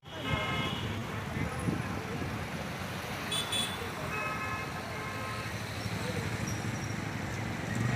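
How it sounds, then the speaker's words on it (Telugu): Road traffic rumbles near the RTC bus stand in Hindupur, with car horns honking in short bursts over a low, steady hum of engines, all fairly faint and distant. "ఇక్కడ ట్రాఫిక్ ఉంది, కాస్త స్లోగా వెళ్దాం."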